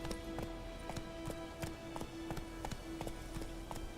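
Roach the horse in the video game The Witcher 3 gallops in a quick, regular hoofbeat rhythm that is moderately loud against a steady game background.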